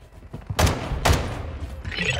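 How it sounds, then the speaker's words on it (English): Shotgun blasts in the Fortnite video game, two heavy booming shots about half a second apart, loud and close, followed by fainter scattered gunfire and game noise. "Oh, that's a shotgun."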